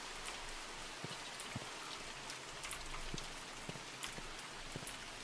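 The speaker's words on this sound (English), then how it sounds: "that rain is loud" Steady heavy rain in the horror game Mortuary Assistant, a dense close hiss of drops pattering on surfaces with occasional sharper individual splats, continuous throughout.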